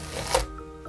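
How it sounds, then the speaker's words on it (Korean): A knife slices through an onion on a cutting board while Korean soy-braised bean sprouts are prepared, giving a single close, crisp cut. "양파 1개를 잘라줍니다."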